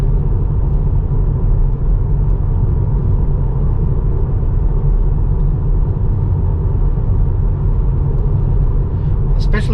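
Car tyres roll over rough, uneven asphalt with a loud, continuous low rumble and road roar from inside the cabin, steady throughout, with a brief tick near the end.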